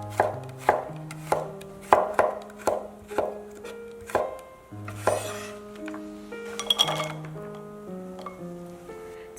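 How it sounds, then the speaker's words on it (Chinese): A knife slices a head of garlic into thin slices on a cutting board, giving a steady run of crisp, evenly spaced chops at close range, with no talk. "准备1头大蒜，切成薄片"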